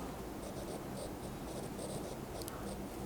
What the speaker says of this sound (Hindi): तो मैं यहां लिख देता हूं